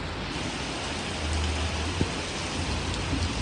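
Heavy rain falling steadily in the early morning outside an open door, a dense continuous hiss close by with no voices and no break across the stretch.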